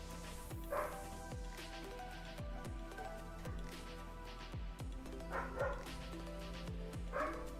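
A mixed-breed former stray dog barks and yips in short bursts with a few whimpers, fairly faint and close, over a steady electronic hum with no talking.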